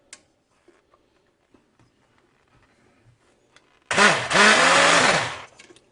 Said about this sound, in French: maintenant, je vais pouvoir les mixer avec un mixeur, tout simplement